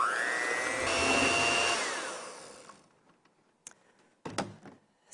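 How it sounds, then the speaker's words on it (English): A hand mixer beats pumpkin cheesecake filling with a loud, close electric whir that rises in pitch, runs steadily for a couple of seconds and winds down, then a few light clicks and knocks follow. "And then I'm going to use a hand mixer."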